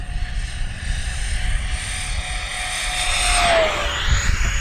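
A JP Hobby 70mm all-metal EDF RC jet makes a fast flyby at full throttle, a loud, steady turbine-like whine over roaring wind that rises in intensity and then drops sharply in pitch as it passes.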